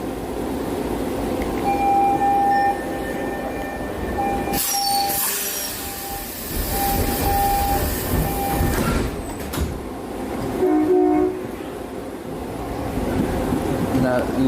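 Ride inside a monorail train: a rumbling carriage with rattles, clunks and a loud burst of mechanical noise midway, steady tonal whines and a brief horn-like tone, with someone talking over it.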